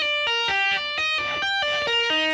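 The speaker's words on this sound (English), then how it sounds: "the lead guitar, which is sort of this like finger tapping legato line that I have" Electric lead guitar playing a fast finger-tapped legato line, bright sustained notes changing in quick rhythmic groups with a distorted, effected tone, loud and alone.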